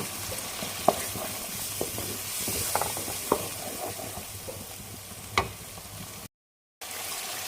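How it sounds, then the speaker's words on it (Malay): Steady sizzling and hissing of sambal tumis chili paste frying in oil with pandan leaves, with occasional scrapes and clinks of a utensil stirring the pan. "Kita tumis dia sampai dia mengeluarkan minyak."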